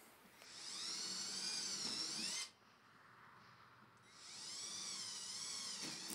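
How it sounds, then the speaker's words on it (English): A power drill bores peg holes through a wooden game board in two sustained high whining bursts, each about two seconds long, separated by a short quieter pause, close and steady with no talking. "when you're drilling the peg holes, remember to keep your drill as vertical as possible"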